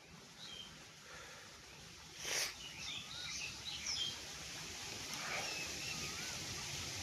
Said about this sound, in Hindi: अलग अलग पक्षियों की सुरीली आवाज़ आ रही है बिल्कुल